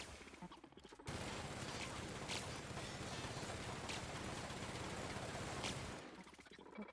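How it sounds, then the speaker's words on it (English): In the video game The Outer Worlds, weapons fire on robots in one dense, continuous burst of rapid gunfire lasting about five seconds, loud against a quieter game background before and after. "And here I am shooting these robots."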